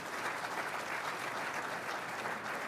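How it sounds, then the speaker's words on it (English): Steady audience applause fills a military professional development forum as award recipients are recognized, a dense, even wash of clapping at moderate distance with no voices standing out. "One more round of applause, please,"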